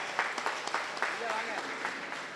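An audience claps together at a ceremony honoring a speaker, producing quick rhythmic bursts of applause under a voice talking.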